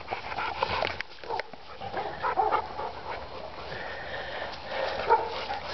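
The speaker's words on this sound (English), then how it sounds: "Stupid dog." A dog heard outdoors during a ball game, giving rough panting and short barking sounds over steady background noise for several seconds, with no clear talk.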